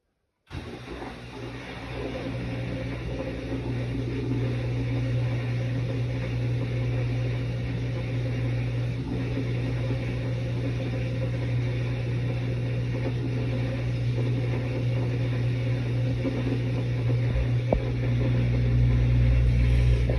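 A Samsung washing machine on its spin cycle gives a steady, loud motor hum with a constant low drone and broadband whir, building slightly toward the end with no voices.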